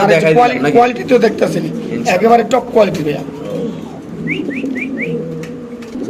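Imported Spanish pouter pigeons coo softly at a market stall, a few brief calls in the latter part after someone talks over the background.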